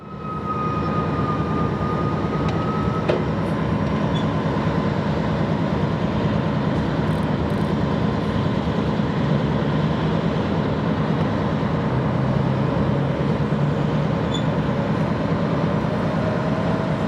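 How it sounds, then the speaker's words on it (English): Freight train 62V rolling slowly to a stop on a siding, a long steady rumble with a faint brake squeal, continuous and fairly loud throughout. "62V comes to a stop so the conductor can get off and line the east switch for his train to depart the siding"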